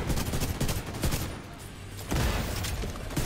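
Gunfire in the Dark Hours video game: dense, loud bursts of rapid shots with a brief lull in the middle before the firing resumes.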